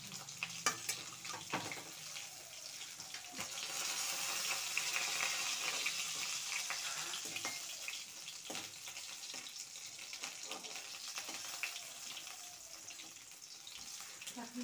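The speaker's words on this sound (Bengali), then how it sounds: "এদিকে আমি মাছের তেলের বড়া বসিয়ে দিয়েছি" Fish-oil fritters fry in a pan in a home kitchen, a steady broadband sizzle running throughout with occasional clinks and stirring noises, fairly close and moderately loud, no talking.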